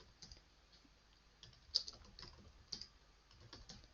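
Someone types on a computer keyboard: faint, close, irregular key clicks and taps with a few louder strokes, no voice.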